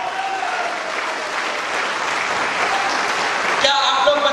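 Sustained crowd applause for two spiritual leaders at a large business function, a steady roar of clapping with some voices mixed in and a rise near the end.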